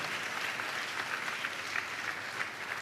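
A congregation claps together at a church gathering, a steady mid-distance wash of applause with no pause.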